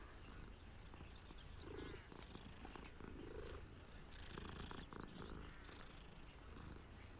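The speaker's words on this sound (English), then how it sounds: "Let's stroke the cat." In Hogwarts Legacy, a friendly Siamese cat purrs while being stroked, a soft, continuous rumbling purr with faint game ambience behind it.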